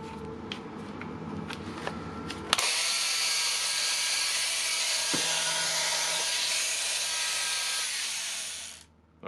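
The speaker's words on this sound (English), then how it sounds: "Okay, we have assembled this nice grinder. Now it's time to turn it on" A DeWalt angle grinder, reassembled after a brush change, is handled with a few clicks and clatters, then switches on and runs with a loud steady whine for several seconds before spinning down.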